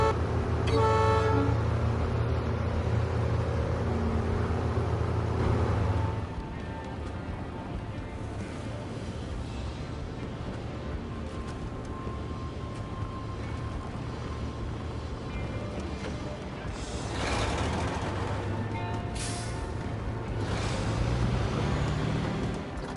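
Yellow Devil truck in the SnowRunner video game grinding through mud, a continuous loud engine drone that drops after a few seconds, then swells again toward the end.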